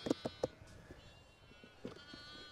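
Sheep bleating on a farm during lambing season, a quick run of three close bleats followed by another pair after a pause, with quieter farmyard background between.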